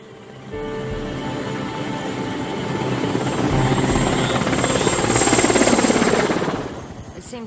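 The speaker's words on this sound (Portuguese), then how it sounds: "quando ouvimos um helicóptero e foi um barulho tão bem-vindo" A helicopter passes low overhead with steady thudding rotor beats and a whining engine, growing louder toward the middle, then fading away.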